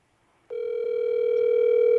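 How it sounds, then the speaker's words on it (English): A telephone line tone begins abruptly after a short silence and then holds steady and loud to the end, a clean electronic hum heard alone. "It's ringing."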